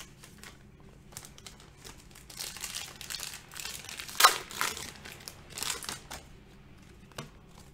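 Panini Prizm trading card packs torn open by hand, with close, soft crinkling and ripping of foil wrappers in bursts, one sharper tear midway, quiet and without talk.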